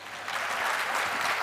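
An audience at a Hindi kavi sammelan breaks into dense, steady applause that quickly swells to full volume and holds there.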